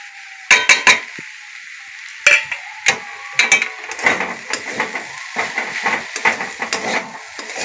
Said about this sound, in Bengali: সব সবজিগুলো ভালোভাবে ভাজা হয়ে গেছে আমি এবার মশলা দিয়ে দেবো